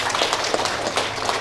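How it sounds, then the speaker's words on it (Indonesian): Audience applause for schoolchildren at a sixth-grade farewell ceremony of an Indonesian Islamic primary school, a steady dense wash of many hands clapping throughout, fairly loud and continuous. "Tepuk tangan dulu untuk anak-anak kita semua."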